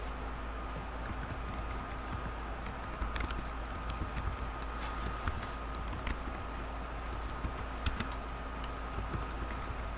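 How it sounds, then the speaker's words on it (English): Rapid typing on a computer keyboard while entering an email address into a contact form, a steady stream of close, crisp key clicks running throughout with no talk. "type in an email address"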